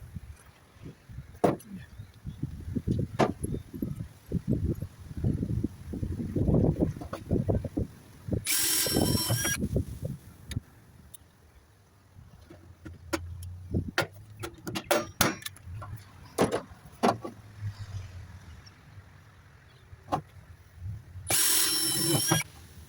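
A metal downpipe has holes drilled for rivets, giving two short, loud, high drill whines separated by clattering handling noises and low rumbling. The drilling is close and has no talk over it.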